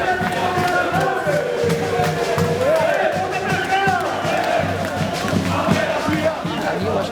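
Palmeiras football fans chant loudly together while a small brass band plays the Palmeiras anthem. The dense crowd voices and wavering horn melody go on without a break over a steady, pulsing drum beat.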